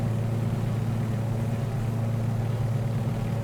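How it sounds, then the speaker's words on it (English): Radial engines of a Beechcraft 18 twin-engine aircraft in Microsoft Flight Simulator, giving a steady, droning low hum with an even, constant loudness throughout and no speech. "I would just again though like some slightly better sounds with those engines"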